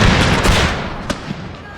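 Musket volley fire from a 30 Years War battle in a Total War game, a loud burst of overlapping shots at the start that trails off into scattered distant cracks.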